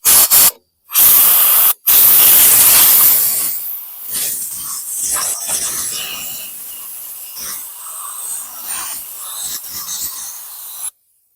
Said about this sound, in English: I'm going to just blast some air in here